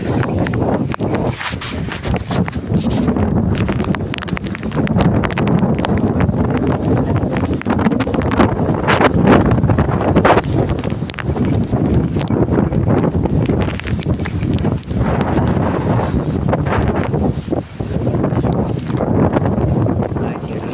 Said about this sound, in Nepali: पानी परेर हावा चलेको